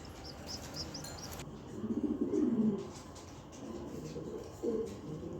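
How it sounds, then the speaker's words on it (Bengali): A pair of Koka pigeons coo in low, soft rolling bursts, one longer coo followed by a shorter one later, close by with faint chirps in the background. "এখানে এক পেয়ার কোকা কবুতর আছে"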